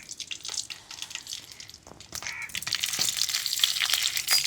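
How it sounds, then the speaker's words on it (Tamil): Mustard seeds hitting hot oil, a bright crackling sizzle that builds and grows denser over a few seconds with some light spoon clinks, close and fairly loud, no talking. "கடுகு போடுமா."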